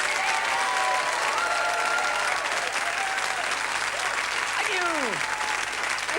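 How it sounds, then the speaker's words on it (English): A television studio audience applauds at a 1990 birthday celebration for a soap opera, sustained clapping mixed with voices and a sliding tone near the end. "Give them a big round of applause."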